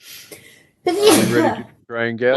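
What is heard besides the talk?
sneeze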